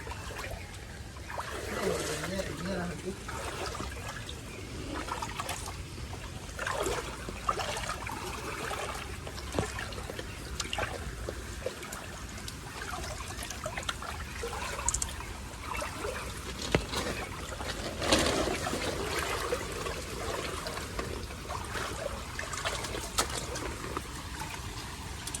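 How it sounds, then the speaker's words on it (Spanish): Floodwater running after a big storm in El Salvador, trickling and splashing close by in an uneven flow, with scattered knocks and voices talking over it at times. "Miren pues, ahí va fluyendo el agua ya, miren."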